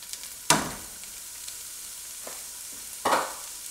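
Chopped onions hit hot oil in a pan of seared beef cheeks, with two sharp sizzling bursts a few seconds apart fading into a low, steady fry.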